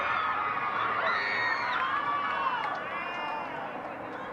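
Spectators at a high school girls' soccer match between the San Angelo Lake View Maidens and Sweetwater Lady Mustangs react to an overhit pass with a loud, sustained wash of shouts, whoops and cheering, with higher voices rising above the crowd.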